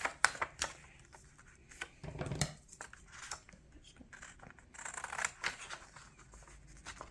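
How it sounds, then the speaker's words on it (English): Scissors cutting a section out of decorated paper for a musical theatre bookmark, a run of close, dry snips and crisp paper rustles in irregular bursts with brief pauses, fairly quiet. "So I'm going to cut out just a section of this."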